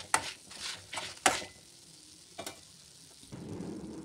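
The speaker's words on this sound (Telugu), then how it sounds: "దోరగా వేయించుకుందాం" Fenugreek seeds dry-roasting in a pan for gongura pachadi, a soft low sizzle broken by a few sharp scraping and stirring knocks, close and fairly quiet.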